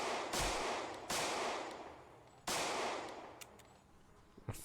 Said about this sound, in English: I'm just shooting zombies next to where I live for fun.